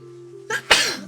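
A single sneeze bursts out suddenly at close range, a sharp inhaled onset followed by a loud explosive release, over a faint steady tonal hum during a Settlements Rising game session.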